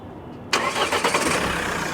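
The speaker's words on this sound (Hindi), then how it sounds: "अब इस गाड़ी को देखिए हम स्टार्ट करके इसका साउंड भी सुनाते हैं" A Mahindra XUV500 SUV engine cranks and catches abruptly, then settles into a steady, close rumbling idle.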